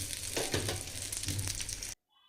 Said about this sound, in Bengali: এখানে বেগুন ভাজিটা করে নিতেছি